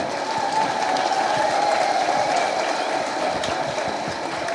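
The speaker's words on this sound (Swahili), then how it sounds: "Mimi nashangaa hayo makofi ni ya nini?" A roomful of staff gives sustained, even applause for a county governor, a thick continuous patter of many hands with faint crowd murmur beneath it.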